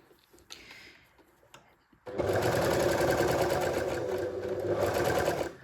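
An overlocker serger sews a seam on a draped top. Faint scattered noises come first, then the motor surges in loud and close with a dense, steady rapid chatter that holds to the end.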